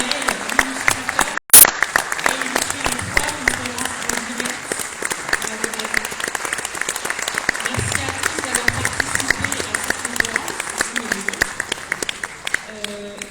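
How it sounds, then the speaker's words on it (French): A conference audience applauds an illustrator who drew live during the talks, giving sustained, moderately loud clapping with distinct individual claps throughout, a brief gap early on, and faint talk murmuring underneath. "Je vais juste vous demander 2 secondes d'applaudir à nouveau Bakary"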